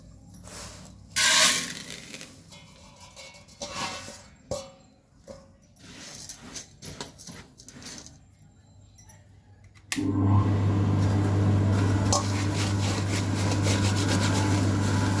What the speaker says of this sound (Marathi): तर आता हे आपल्या घरच्या गिरणीत दळायला टाकते.